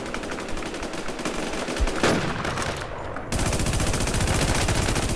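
Rapid machine gun fire in the shooter game Warzone rattles in long, dense automatic bursts, loud and close, with a brief break and muffled shift midway before the shooting resumes at full intensity.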